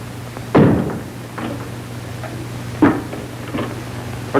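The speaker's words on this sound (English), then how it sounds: "Close that door." A door in a 1940s room is pushed shut with a solid close thump, followed a couple of seconds later by a second softer knock, over a low steady room hum with no speech.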